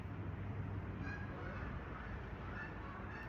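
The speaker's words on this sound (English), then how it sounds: "Here's some Canadian geese" Canada geese give a few faint, distant honks over a steady rushing outdoor background.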